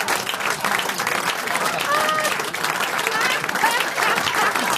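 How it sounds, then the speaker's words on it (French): Studio audience at a French radio comedy show clapping in a loud, dense burst throughout, with voices speaking and laughing over the applause. "N'applaudissez pas."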